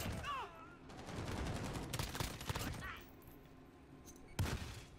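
M13 assault rifle fire in a video game, with several sharp bursts of close, loud gunshots in quick succession, a pause, then one final short burst near the end.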